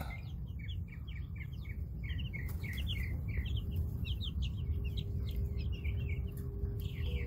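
Chickens cluck and chirp in a steady, busy run of short calls over a constant low rumble of background noise, with no talk.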